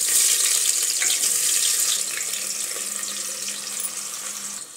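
Vertically sliced onion dropped into hot oil already crackling with mustard seeds and asafoetida, giving a steady, loud, close hiss of frying that thins slightly after the first couple of seconds, with no talk.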